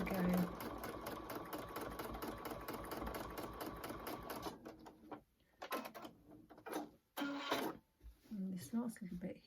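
Sewing machine stitching steadily during free-motion thread painting of a rocking horse collage, a fast continuous whir for about four and a half seconds, then short bursts of stitching between pauses, with a voice talking over it.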